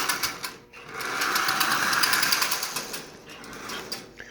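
Small electric motor of a Marx 1666 toy train locomotive running close by with a fast, buzzing mechanical chatter that swells and eases, briefly dropping out near the start.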